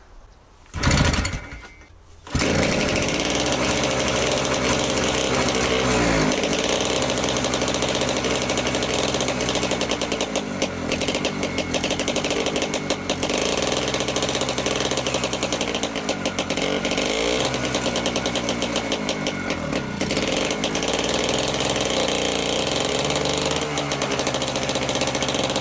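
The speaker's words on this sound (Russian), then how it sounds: "Сейчас попробуем крутить двигатель" An old Soviet T-74 tractor engine turns over and catches, settling into a loud, steady diesel clatter with rhythmic knocking close by after a brief initial burst, running continuously with no talk.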